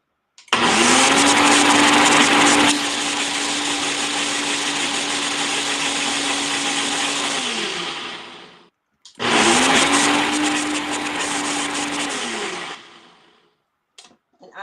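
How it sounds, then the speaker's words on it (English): An electric blender mixing brownie batter cheesecake filling whirs loudly in two bursts, the first about eight seconds with a pitch shift partway, the second shorter after a brief pause, both winding down at the end. "a blender is what everybody wants to hear"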